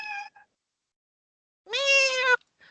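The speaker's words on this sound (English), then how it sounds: "Meow. Whose cat was that?" A house cat meows twice, a short faint call first, then a long, loud, tonal meow, with quiet gaps between.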